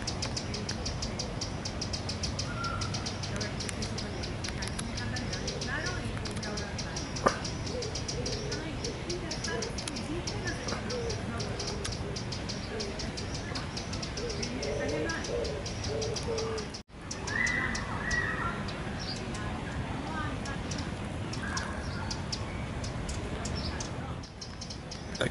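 A Eurasian wren calls in Madrid, its faint chirps and short bird calls scattered over a steady, noisy outdoor background with a low mechanical hum.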